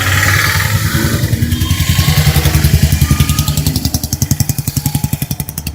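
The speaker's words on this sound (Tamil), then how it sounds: "பைக்கர்ஸ், ஷேர் ஆட்டோஸ்னு ஒரே சவுண்டா வைபிங்கா தான் இருக்கும்." Motorbikes and share autos rumble past on a beach road, their engines pulsing in a steady, rapid chug that grows sharper and more staccato as one nears, with no voices.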